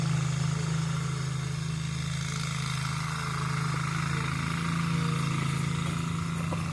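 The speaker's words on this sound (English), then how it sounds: "Neighbor's over here mowing the yard, so I'm going to have to talk a little louder." A neighbor's lawn mower drones steadily while mowing a yard, its engine hum constant and fairly loud from nearby, running alone without speech.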